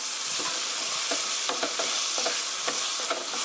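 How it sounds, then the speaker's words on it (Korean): Tomato meat sauce with a spoonful of sugar stir-fries in a pan, giving a continuous sizzle with repeated scraping strokes of a utensil across the pan at an uneven rhythm, close and steady with no talking. "토마토의 신맛이 좀 날아갈 수 있게 이렇게 볶아주시고요"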